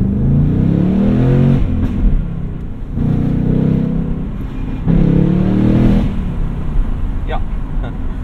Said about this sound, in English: the full track mode exhaust, the one that I've turned on right now